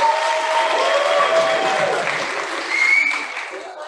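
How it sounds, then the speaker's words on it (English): Congregation applause for a speaker being introduced at a church vacation Bible school event, a dense steady wash of clapping that swells slightly near the end, with a few voices calling out faintly beneath it. "I heard the applause."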